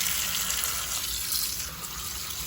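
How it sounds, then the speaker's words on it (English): A kitchen tap runs water into a colander in the sink, a steady close hiss and splash that continues without a break and with no voices. "So I'm going to turn the water on and rinse it off."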